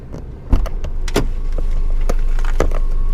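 A person gets into a car with a sharp thump and several clicks and knocks from the door and interior, followed by a steady low hum close by.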